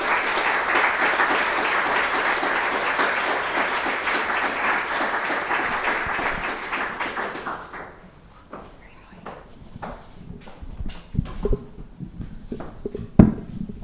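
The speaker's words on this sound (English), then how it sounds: "Please give them a warm round of applause." Loud, dense applause from an audience welcoming a panel onto the stage at a climate action event, sustained for about seven seconds before thinning into scattered claps, shuffling and footsteps.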